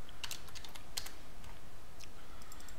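Quick clicks of typing on a computer keyboard while entering a command at a Windows command prompt, a short burst of keystrokes followed by a few scattered taps, close and clear with no talking.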